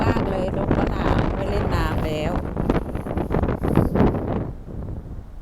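Strong wind buffets the microphone in a loud, steady rumble on a rainy morning in Amsterdam, with a voice speaking faintly underneath.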